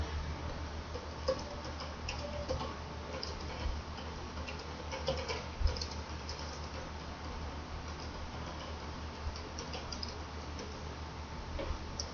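Slow, irregular keystrokes on a computer keyboard while composing a post, soft ticking taps scattered over a steady low hum, with no talking.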